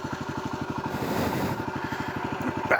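A new motorcycle's engine putters in a steady, rapid pulse at low revs near Furry Creek. The bike lacks torque down low, and the rider feathers the clutch before a steep climb. The engine stays close and even throughout, with no talking.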